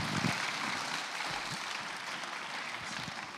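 A church congregation claps for the children, steady dense applause throughout, moderately distant and even in level with no talking over it.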